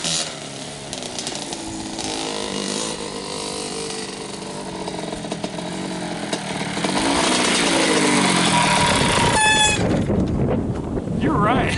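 A 1987 Kawasaki KX80 two-stroke motocross bike engine revs hard and climbs to a high-pitched top-end scream, loud and close, with a rising whine near the end and speech mixed in.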